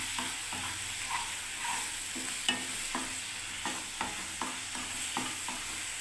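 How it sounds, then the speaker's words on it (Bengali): A spice mix with coriander powder frying in a pan for a soybean and bean vegetable curry. It gives a steady close sizzle broken by regular spatula scrapes and stirring strokes, with no talking. "তো এবারে মশলাটা আমি কষতে দিচ্ছি বন্ধুরা দেখুন।"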